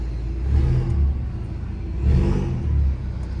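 BMW 330i with a stage 2 downpipe exhaust revving in two close, loud surges, deep low rumble swelling and falling back to an idle burble, no talk over it.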